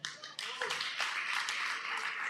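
Audience clapping for a band at a live performance, a steady close burst of applause lasting a couple of seconds, with voices mixed in.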